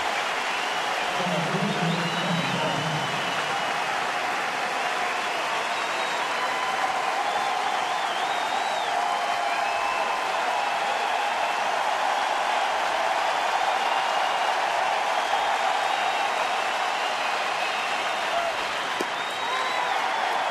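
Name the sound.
baseball stadium crowd cheering after a base hit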